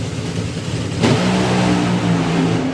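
Drag racing cars launching off the line at an FIA Main Event meeting, a loud sudden surge of engine roar about a second in that holds as a sustained, close, high-powered drone.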